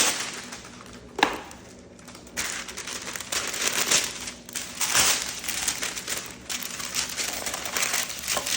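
Parchment paper crinkles and rustles as it is pressed into a baking tray for homemade bread, the crackling close and continuous with a few sharper crumpling bursts.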